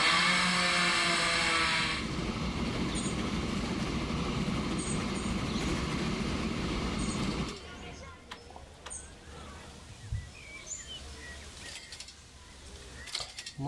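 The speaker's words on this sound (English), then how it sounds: "It's a pretty fast train," A fast train running in the Transport Fever railway-building game, a loud steady rolling rumble for the first seven seconds that then drops away to a quieter, sparse background with scattered small noises.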